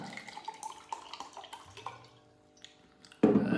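Water is poured into a cup, half filling it, to mix a collagen drink: scattered light drips and splashes, then a sudden louder rush of water in the final moments.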